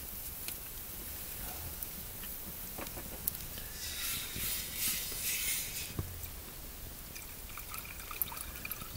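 Hot water poured at a campsite, a soft steady trickle that swells a little midway and then tapers, quiet and close with faint outdoor background.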